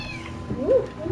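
A cat meows once near the middle, a short rising-then-falling cry close to the listener over a quiet indoor background.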